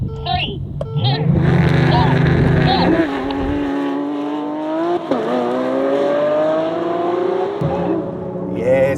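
A Lamborghini Aventador Ultimae and a Ferrari 812 Competizione, both V12s, launch in a drag race, with loud, rising engine howls that shift pitch through gear changes, heard from inside the car with a voice talking over it.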